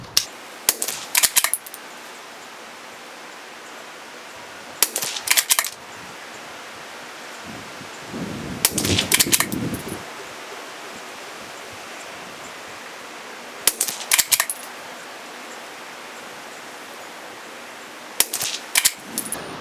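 A CZ 457 rifle fires Lapua Long Range ammunition outdoors, with five sharp shots spaced roughly four to five seconds apart over a steady background hiss. A brief low rumble of wind or handling sits between the third shot and the shots around it.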